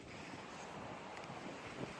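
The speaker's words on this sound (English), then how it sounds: "It's really windy, it's kind of cold" Strong, steady wind roaring through the woods in cold evening air, a continuous broadband rush with buffeting against the microphone and no speech.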